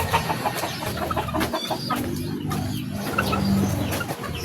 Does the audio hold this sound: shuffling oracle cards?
no